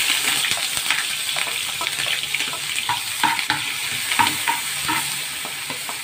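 Chopped onions sizzle and fry in a pot for Egyptian lentil soup, with a steady hiss broken by repeated scraping and clinking stirs of a utensil against the pot, close and clear, no talking.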